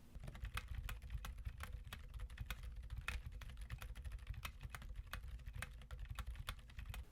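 Steady typing on a keyboard fitted with Silent Bluish White tactile switches, a continuous patter of soft, muffled keystrokes at an even pace, close and alone.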